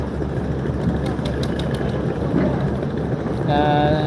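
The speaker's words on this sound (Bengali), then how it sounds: "ছেড়ে যাচ্ছে এম খান সাত লঞ্চটা বিশাল বড় গিয়ার দিতে একটু সময় লাগে" A very large passenger launch ferry, the M Khan 7, pulls away from its berth in reverse gear, its engine a steady low drone under wind noise with short higher tonal sounds near the end.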